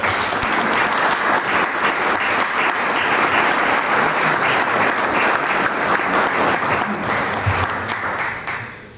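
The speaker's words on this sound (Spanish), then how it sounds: "Acogemos como aplauso, por favor." Lecture audience in Lima applauding a speaker, dense, loud continuous clapping from a full room that tapers off at the end.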